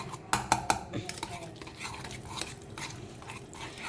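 A spoon stirs a ghee mixture in a metal pot, clinking sharply against the sides a few times at first, then scraping steadily and softly, close by, with no talk.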